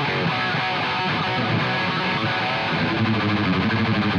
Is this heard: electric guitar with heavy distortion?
yes